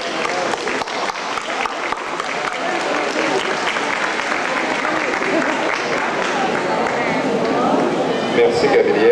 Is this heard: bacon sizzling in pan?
no